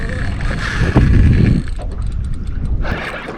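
A fishing reel winds in line out on the water, a steady mechanical ratcheting whir close by that swells briefly, with gusty wind noise around it.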